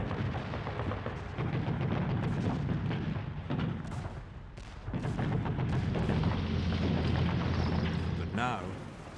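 Gunfire and artillery boom at the Gold Beach landing in a dense, rumbling barrage of deep blasts and bursts, heard beneath a narrating voice.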